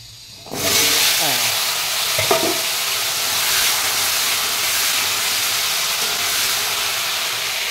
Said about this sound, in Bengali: এবার এইগুলো একটু ভেজে নাও ভালো করে, নুন হলুদ দিয়ে।